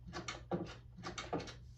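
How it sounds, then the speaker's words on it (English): A regular door in Minecraft opened and closed twice in quick succession, each a short wooden clack pair with a creaky swing, faint and evenly spaced, nothing else heard. "then the regular door"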